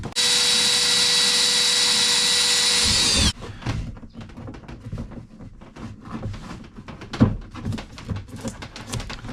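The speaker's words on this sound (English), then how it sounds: "I'm going to just drill a hole right here to bring the cable up" A power drill whines loudly and steadily for about three seconds while drilling a cable hole, then stops, followed by scattered clunks and handling noises.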